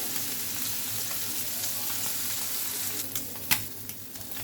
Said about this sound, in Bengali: আমার মাছ ভাজা হয়ে গিয়েছে